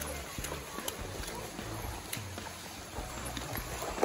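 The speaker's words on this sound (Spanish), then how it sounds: "Es un caballo muy lindo." Horse walking along a riverbank in Costa Rica, hooves giving soft, faint irregular clops over quiet background noise.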